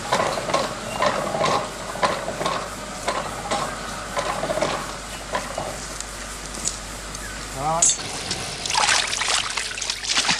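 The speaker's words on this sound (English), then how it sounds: "When full, the steel lid is lifted into place using a steam winch." A steam winch lifts a steel lid with a steady mechanical clatter and ratcheting. Hissing and trickling sounds run underneath, and a sharper rattle and screech come near the end.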